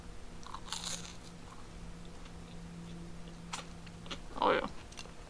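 Teeth bite into crunchy breaded Southern fried catfish seasoned with Old Bay, giving one loud close crunch near the end after a fainter bite earlier, over quiet room noise.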